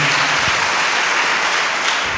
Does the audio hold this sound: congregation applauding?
yes